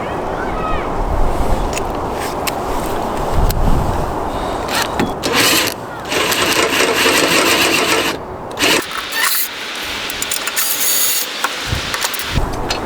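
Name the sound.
power gun with 12 mm deep socket tightening antenna nut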